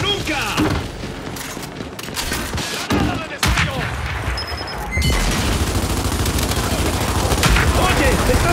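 Rapid gunfire crackles in a ranked Control match of the video game Gears 5, with bursts of automatic fire, sharp booms and a brief shatter, loud and near, while a player shouts over the action.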